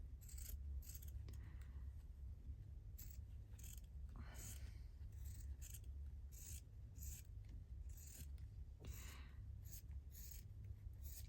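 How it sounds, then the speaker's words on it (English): Scissors fussy cutting a fabric piece for a stitchery journal, making quiet, close, repeated snips and rasping rubs in an uneven rhythm over a low steady hum. "Let me just fussy cut this piece out."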